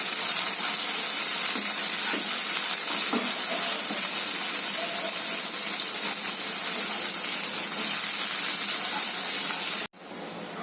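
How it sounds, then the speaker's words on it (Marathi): Chopped onion and tomato sauté in a hot pan for jackfruit seed bhaji, giving a steady, loud, close sizzle and hiss throughout with faint stirring clicks, ending in a brief drop before the frying resumes. "आता आपण टोमॅटो घालूया. तो चांगला नरम होईपर्यंत आपल्याला परतायचा आहे."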